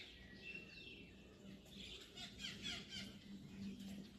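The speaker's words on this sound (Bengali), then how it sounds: "টিয়া পাখির আওয়াজ শুনতে পাচ্ছ?" Parrots call in the early morning around a hotel near Kaziranga, giving faint, scattered high squeals and chirps against soft ambient background noise.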